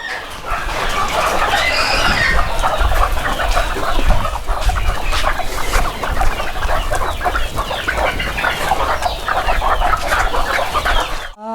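Many young native chickens, about a month and a half old, cluck and chirp steadily in a poultry farm shed, a loud, dense, continuous flock chorus heard close up with no talk.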